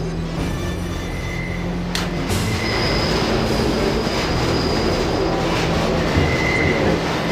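Train running in the video game Deus Ex, a steady loud rumble of rolling rail wagons with faint wheel squeal tones throughout.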